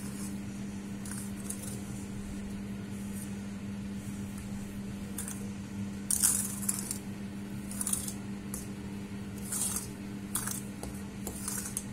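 Nankhatai dough ingredients being mixed in a bowl, giving sparse, faint clinks and scrapes of a utensil against the bowl over a steady low hum, with a brief cluster of slightly louder taps midway.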